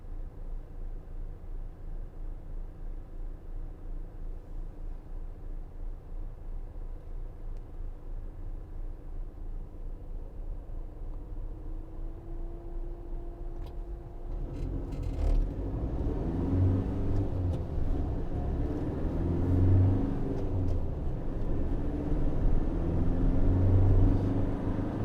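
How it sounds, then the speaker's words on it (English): A 2019 Citroen Relay 2.2 BlueHDi L2 H2 panel van on the road, a steady low engine and road rumble that grows louder and heavier partway through as it speeds up, with a few creaks and knocks, no talking. "He's now driving faster than he was on the motorway."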